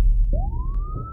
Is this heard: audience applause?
no